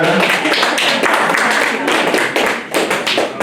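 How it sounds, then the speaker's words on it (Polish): A crowd at a kickboxing gala weigh-in ceremony claps, a loud, dense, continuous patter of applause close by for a few seconds. "Wielkie brawa oczywiście."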